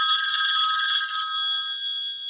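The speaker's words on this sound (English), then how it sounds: "Who is that calling my phone now?" A phone rings during an open panel Q&A discussion, a steady electronic ringtone held evenly and fairly loud with no talking over it.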